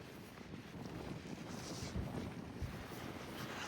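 Strong gusty wind rushes steadily across the microphone outdoors near a railway under a high wind warning, a continuous buffeting roar that swells slightly around the middle.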